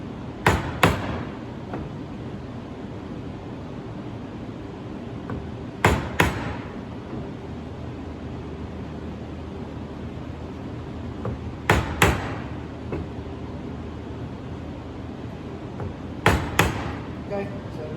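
A chisel struck with a mallet chops a mortise in wood, with sharp paired knocks repeating about every five to six seconds over quieter background noise.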